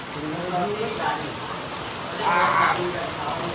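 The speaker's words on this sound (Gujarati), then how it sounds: "વરસાદ ભાઈ ભમા ભમ ચાલુ છે" Heavy rain falls in a steady, dense hiss that fills the whole clip, with a few louder swells of spattering water.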